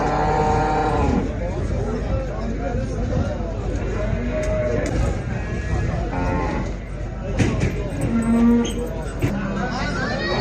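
Young calves, one male and one female, moo repeatedly at a busy sheep, goat and cattle market in Mashtaga, Azerbaijan. The close, loud lowing runs under constant talking and crowd chatter.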